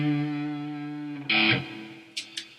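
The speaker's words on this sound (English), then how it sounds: "Let's try some reverb." Electric guitar run through a DIY pedalboard with reverb, a sustained chord ringing out before a sharp strummed accent and two brief bright plucks, each trailing off in a reverberant tail.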